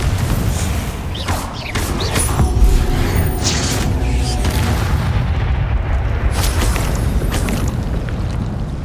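Repeated Confringo spell blasts from Hogwarts Legacy, deep booming explosions with bursts and crackling over game ambience, loud and near, one impact rolling into the next without any talk.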